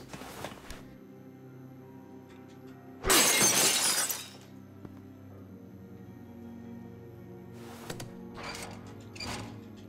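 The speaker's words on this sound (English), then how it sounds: "Then I heard the glass breaking." Glass shattering in The Walking Dead video game: one loud, bright crash of breaking glass lasting about a second, rising over a quiet, humming backdrop with a few faint clicks before and after.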